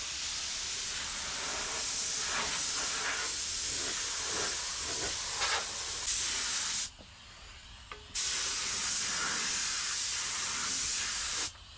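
A spray gun lays bed liner onto the underbody of a squarebody truck, a steady close hiss that cuts out for about a second before resuming just as strong.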